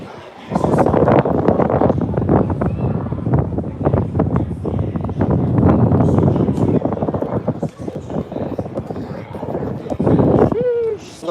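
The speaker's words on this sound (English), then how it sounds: "It's a little windy up here." Wind blowing hard across the upper pool deck of a cruise ship leaving Los Angeles for Cabo at night, a loud, gusty buffeting roar against the microphone, with a person talking through it.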